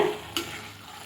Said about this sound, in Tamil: தக்காளி நல்லா எண்ணெய் திரிஞ்சு வெந்துட்டு இருக்குங்க